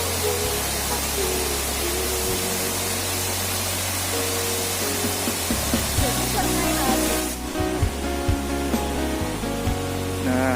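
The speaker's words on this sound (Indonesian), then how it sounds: "Nah, ki air terjun watu gedek lur." Watu Gedek waterfall pours in a steady roaring wash of falling water, loud and continuous, with music and a voice faintly over it.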